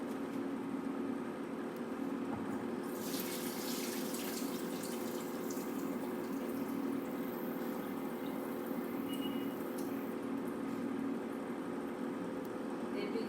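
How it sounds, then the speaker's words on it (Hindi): Water from a cooking pot of rice being drained off and poured into another pot, a steady watery rush and splashing over a constant background hum, with a louder pour midway. "इसका पानी निकाल लेती हूँ और मैं इसमें डाल देती हूँ"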